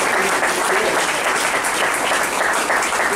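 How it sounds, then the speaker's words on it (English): An audience at a historical society meeting breaks into sustained applause, dense and loud, with many hands clapping evenly for several seconds. "I think they deserve a hand for that."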